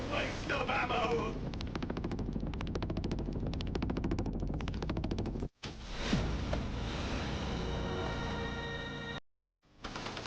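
Sustained rapid machine-gun fire rattles loudly through a video game trailer, a dense continuous stream broken by brief cuts, with a voice shouting over the barrage.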